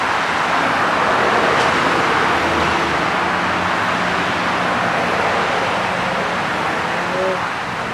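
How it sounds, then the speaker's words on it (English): Steady roadway traffic noise heard from an overlook at a park by a bridge, a continuous broad wash of passing vehicles at a moderate distance with no single car standing out. "Yeah, so there's like lots of traffic noise."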